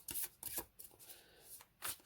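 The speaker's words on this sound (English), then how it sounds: "Yeah, they shuffle beautifully." First-edition Spacious Tarot cards, thin and slightly flexible, being shuffled up close in several quick riffling bursts with short pauses between them.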